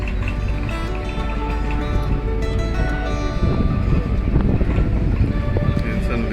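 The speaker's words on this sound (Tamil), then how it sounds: "காற்று அந்த மாதிரி அடிச்சு வரோம்." Wind gusting across an open houseboat on the backwaters at Alappuzha, Kerala, a steady loud rumbling buffet against the microphone with a low engine drone underneath, growing rougher toward the end.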